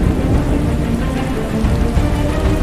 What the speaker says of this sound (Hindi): झमाझम बारिश गिरती है साल में 200 से ज्यादा दिन।